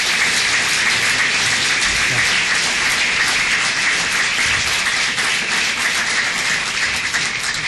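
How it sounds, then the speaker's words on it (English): A city council meeting audience claps steadily for a young guest, a dense, even wash of many hands that holds strong and close for the whole stretch with no break. "Give her a round of applause."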